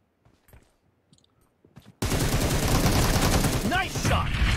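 Rapid automatic gunfire from an M762 and AKM in a shooting video game, starting abruptly after a quiet stretch of soft clicks and continuing loud and dense, with brief chirping game effects layered in.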